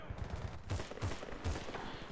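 Gunfire in the Battlefield Bad Company 2 video game, a few sharp shots at roughly regular intervals over a dense, continuous battle din.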